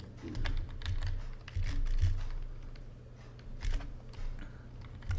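Fingers tap out a Google search on a phone's on-screen keyboard, producing quick, light clicks in uneven bursts, close and fairly quiet, with no voices.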